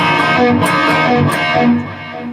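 An electric guitar with heavy distortion plays a riff, loud and close, with quick repeated picked strikes that ring out and then fade slightly at the end.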